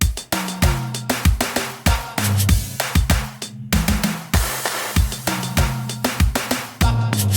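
Brushed-style tom hits from the Modeled Brushed preset in Reason's Kong Drum Designer play a busy drum breakdown, loud and close, with rapid repeated low thuds and pitched tom tones in a steady groove.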